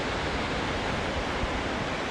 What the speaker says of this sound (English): And now you can see the ocean.